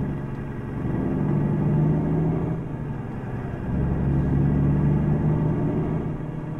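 The engine of a Colombian tourist bus in a driving video game rumbles steadily, swelling twice as it accelerates and then easing off between surges. The low drone is loud and close, with no talking over it.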